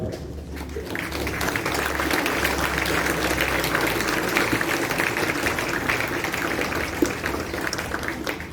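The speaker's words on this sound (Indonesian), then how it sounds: "Sekali lagi kita berikan tepuk tangan yang meriah." Steady applause from a crowd at a school flag ceremony for Education Day, a continuous outdoor patter of clapping that holds at an even level throughout, with a low hum beneath.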